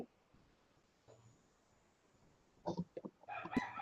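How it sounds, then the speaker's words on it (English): A chicken clucks and crows faintly in the background during an online webinar, with a few short scattered calls building near the end over a quiet room. "I think we heard some chicken."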